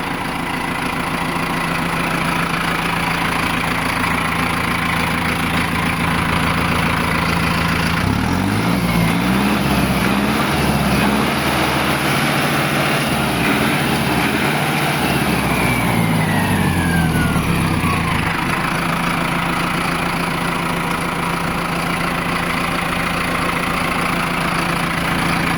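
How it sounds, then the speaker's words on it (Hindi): A Novo 605 PS Turbo V2 S+ tractor engine runs loud and close with a steady low drone. Midway through it shifts into a rougher, throbbing stretch with a rising whine, then settles back to an even idle. "टर्बो वाले की आवाज़ सुनो किसान भाइयों। ट्रैक्टर की जो आवाज़ है ना पहले से साइलेंट हो गई है"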